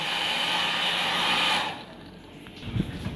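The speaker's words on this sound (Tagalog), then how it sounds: "may aircon din" A hotel room air conditioner runs with a steady, loud whooshing hum that drops noticeably partway through, then continues more quietly with faint clatter and rustling.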